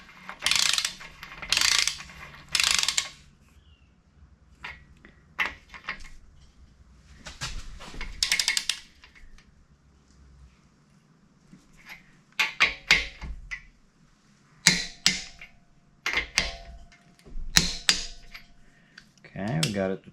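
A ratchet wrench clicks in several separate bursts while tightening a motor upgrade to torque spec, close and crisp with quiet pauses between strokes and a voice speaking briefly in between.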